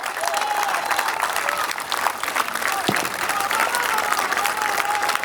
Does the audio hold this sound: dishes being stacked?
no